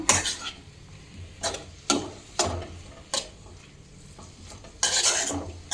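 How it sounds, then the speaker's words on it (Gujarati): A spoon scrapes and stirs ripe chibhda curry tempering in a pan, about seven distinct stirring strokes clanking against metal over a soft continuous sizzle, close and clear with no talking. "આવી રીતે આપણે શાકનો વઘાર કરવાનો છે"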